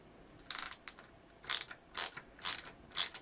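A ratcheting screwdriver clicks as Torx 8 screws come out of a Trek Flex Bluetooth bike light, in about five short, crisp bursts of rapid ratchet clicks, close and fairly quiet, with no voices.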